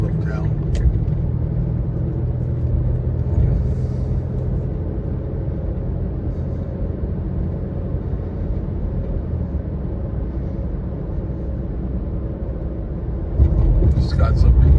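Cars rolling slowly along a small-town California road with a 45 mph limit, a steady low rumble of passing traffic heard from inside a moving vehicle, continuous throughout, with a brief clatter near the end.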